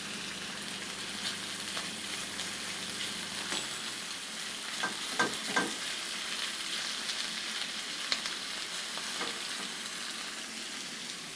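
Beef steak searing in a hot pan gives a steady, even sizzle and crackle, with a few soft clinks of a utensil as the meat is turned.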